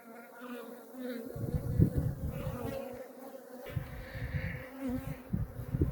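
Honeybees drone and hum continuously at close range while a beehive is opened and inspected after a swarm split, the buzzing rising and falling in uneven swells.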